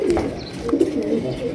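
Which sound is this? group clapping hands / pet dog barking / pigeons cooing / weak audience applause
pigeons cooing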